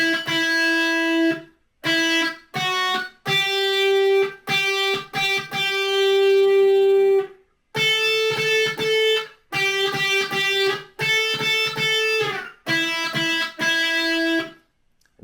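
An electric guitar plays the melody line on the second string, with a distorted tone. Sustained notes come in phrases separated by short gaps and ring clearly with no one talking.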